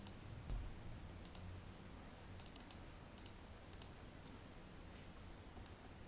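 Mouse clicks while loading Gerber files in circuit layout software: a handful of sharp, faint, scattered clicks over a low steady background hum, with no one talking.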